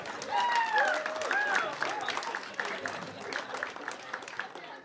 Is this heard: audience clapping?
yes